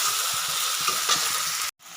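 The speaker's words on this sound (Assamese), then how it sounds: "এয়া মাংসখিনি এড কৰাৰ পিছত আমি ইয়াক 15 মিনিটমান এনেকৈ মিডিয়াম ফ্লেমত ভাজি থাকিম" Meat sizzles steadily in a pan over a medium flame, an even crackling hiss with faint stirring taps, then a brief cut and quieter resumption.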